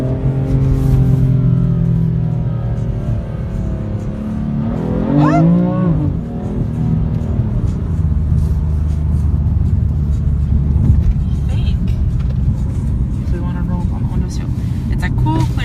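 A BMW M3 on a test drive, its engine droning steadily from inside the cabin with a brief rise in revs midway, while someone talks over it most of the time.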